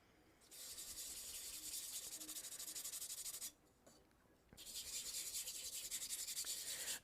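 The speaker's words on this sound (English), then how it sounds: "I do a light wet sanding on here to remove the texture" Steady, hissing rubbing of wet sanding against a ceramic pot before glazing, continuing in two long strokes-filled stretches with a brief quiet gap between them.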